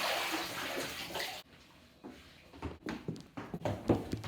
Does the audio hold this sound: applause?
no